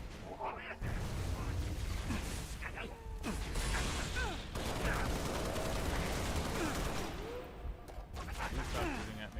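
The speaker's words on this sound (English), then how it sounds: "Stop shooting at me." Gunfire in a first-person shooter game, dense and near, running almost continuously with mechanical clatter and rattling bursts, fading briefly once before resuming, with a voice talking under it at moments.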